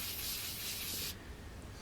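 A handful of sawdust rubs against a spinning timber pencil blank on a wood lathe, a steady close friction hiss that cuts off abruptly near the end, leaving a quieter motor hum.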